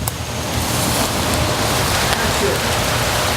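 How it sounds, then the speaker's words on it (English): Heavy rain pours in a dense, steady hiss, loud and continuous throughout. "Since it's now very rainy,"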